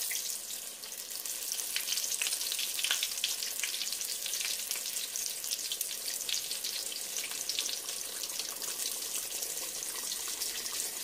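Ravioli frying in a pan, the second side cooking, give a steady close sizzle with crackling pops and spits throughout, with no talk.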